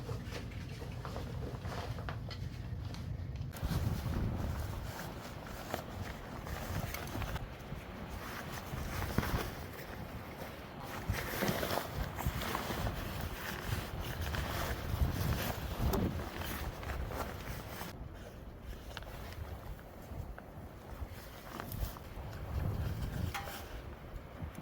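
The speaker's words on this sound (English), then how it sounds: "it is windy, but we're not gonna let that stop us" Wind gusts by a river, buffeting the microphone with a low, rushing roar that swells and eases over the whole stretch, with faint rustling and no talk.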